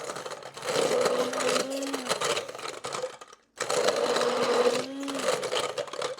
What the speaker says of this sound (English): I'm going to use my immersion blender here.